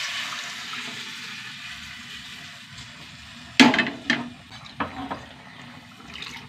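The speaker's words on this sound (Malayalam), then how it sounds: "നമ്മുടെ വേവിച്ച് വെച്ച പരിപ്പ് ഒഴിച്ച് കൊടുക്കട്ടോ." Cooked lentils are poured into a pan of roasted spice powders, giving a sudden wet splash followed by a few smaller sloshing splashes over a soft kitchen hiss.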